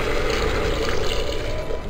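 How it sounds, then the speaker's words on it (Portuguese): Brief, steady splash of water being poured into a hot pan, rushing and hissing, close by with no talking. "Agora eu vou colocar água."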